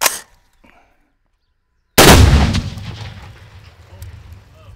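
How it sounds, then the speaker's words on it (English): One pound of explosive packed into a hole cut in a watermelon detonates with a single massive, close blast. A long rumbling decay and rattling debris follow, after a brief quiet pause. "We cut a hole in a watermelon and put the explosive in it."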